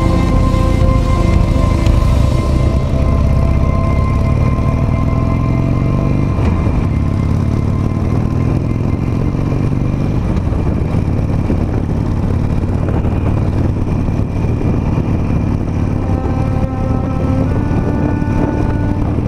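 Harley-Davidson Nightster motorcycle riding through traffic, its engine droning loudly and steadily the whole way with strong wind buffeting over the microphone; a rider's voice is barely present.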